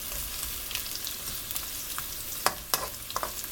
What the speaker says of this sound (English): Gonna give it a stir, a little mix up